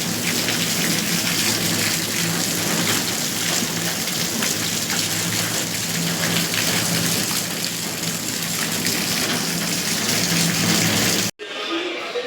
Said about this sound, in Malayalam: ഇതുണ്ട്, നല്ല മഴയാണ്.